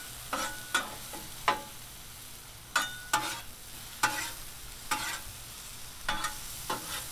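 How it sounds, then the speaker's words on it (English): Onions and vegetables sizzle on a 22-inch Blackstone griddle while a spatula scrapes and stirs them in irregular close strokes over a steady frying hiss. "Now we're going to mix up our veggies."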